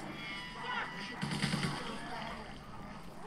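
Cannon fire in a zombie shooter game: dense, booming volleys rumble under a busy mix of game noise, with a burst of sharper blasts in the middle and a steady loud barrage throughout.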